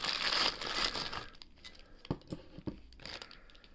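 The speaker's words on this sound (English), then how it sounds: "Nice, in a nice little plastic bag." Crinkly plastic bag rustles as a padlock is unwrapped: a loud initial crumple, then softer scattered crinkles and small taps up close.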